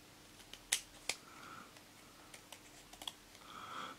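Scissors snip through a paper insert for a CD case, giving a few sharp, close clicks and short cutting strokes in a quiet room, with no talking.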